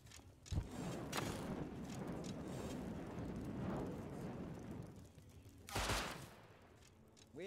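Gunfire from the survival video game Rust: sharp, loud bursts of shots early on and again near the end, over a constant dense background rumble of game noise.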